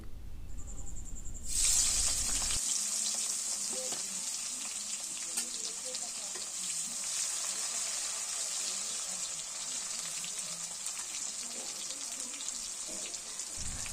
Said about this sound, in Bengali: মাছ ভাজার পর ওই তেলেই পেঁয়াজ কুচি দিয়ে দিচ্ছে